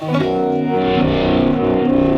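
Electric guitar played through a vibe pedal for a swirling tone, chords ringing steadily with a pulsing modulated wobble, loud and close with no talking.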